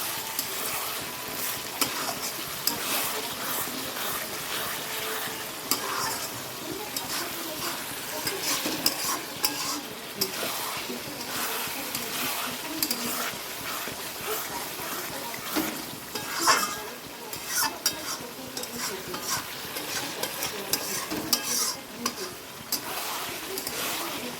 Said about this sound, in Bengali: ভালো করে একটু নাড়াচাড়া দিতে হবে দেখো চিনি দিয়ে দিলাম